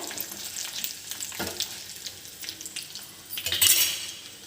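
Tempering spices crackle and sizzle in hot oil for a coriander chutney, with short bursts of spattering and light stirring and utensil clinks nearby.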